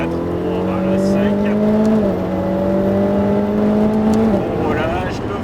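A Ferrari F8 Tributo accelerates at full throttle on the Pau-Arnos circuit, heard from inside as a loud, rising engine note with two quick upshifts, continuous and dominant.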